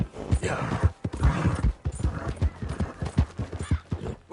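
A horse trots with steady clip-clop hoofbeats close by, briefly whinnying, the rhythmic steps loud and continuous throughout.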